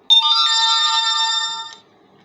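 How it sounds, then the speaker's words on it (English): A phone notification chime plays once, a bright sustained tonal ring lasting about a second and a half before fading, clear and alone in a quiet room. "There's some notifications coming on now."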